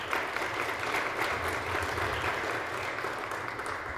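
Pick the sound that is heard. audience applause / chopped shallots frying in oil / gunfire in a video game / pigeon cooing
audience applause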